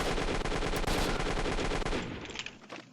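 A machine gun fires a long, dense burst in a first-person shooter, loud and continuous for about two seconds before it stops and leaves quieter clatter. No one speaks.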